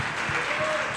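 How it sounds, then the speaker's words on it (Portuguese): A dense wash of clapping from a large church congregation, continuous and loud. "Você pode dar mais um aplauso ao Senhor?"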